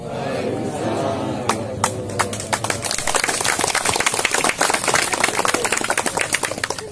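An audience at a public gathering with a regent's visit at a park breaks into applause, sharp scattered claps building into a dense, loud clatter over a faint murmur and a brief voice at the start.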